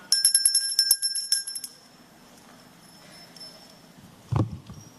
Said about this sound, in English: Ireland rings the bell for the love of humanity.